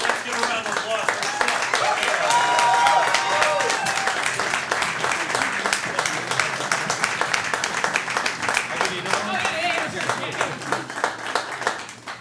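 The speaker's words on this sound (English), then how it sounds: "Let's give a round of applause for" Audience applause at a late-night comedy show, dense sustained clapping from a crowd that swells and continues for several seconds before gradually thinning out, with voices mixed in.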